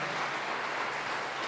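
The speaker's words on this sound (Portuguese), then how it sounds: "As palmas mais uma vez para Jesus" A congregation claps during an evening church service, making a short, dense, continuous burst of applause with no voices over it.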